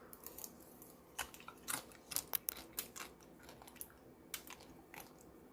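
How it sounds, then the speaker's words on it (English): Crisp toasted filling for a low-carb Dubai chocolate bar crunches in a run of sharp, irregular crackles and snaps, close and fairly quiet, with no talking. "Hope you can hear the crunch."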